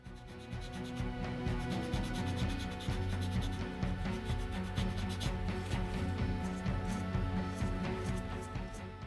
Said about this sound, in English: It's then carefully sanded to ensure I don't get a flat spot.